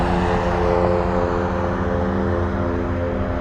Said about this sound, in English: We have a Delta 8-20 flying in from Seattle.